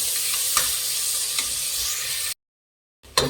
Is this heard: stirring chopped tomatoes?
yes